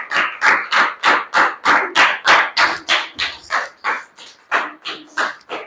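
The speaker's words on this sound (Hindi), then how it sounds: "जोरदार ताली राजा जी के लिए" A studio audience claps for contestant Raja ji at a quiz show, with strong rhythmic claps in unison, about three per second. The clapping is loud, close and continuous, with no talk.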